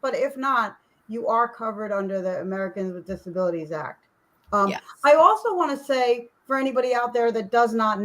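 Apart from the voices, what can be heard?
None of the usual background noises is heard.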